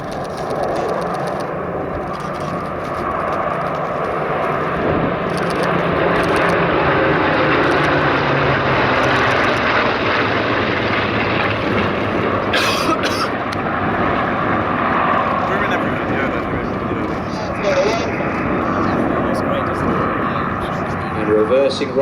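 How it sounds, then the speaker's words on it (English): A Mark 16 Spitfire fighter, RW382, flies past with a steady droning propeller engine that swells and fades over about twenty seconds, heard under continuous commentary. "George Hay flying his Suffolk Spitfire RW382, that's a Mark 16"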